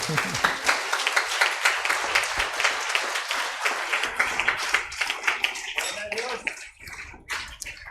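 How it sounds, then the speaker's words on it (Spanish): A church congregation claps during a worship service, dense rhythmic applause that starts strong and gradually thins out toward the end, with voices audible as it fades. "Fuerte ese aplauso para el Señor"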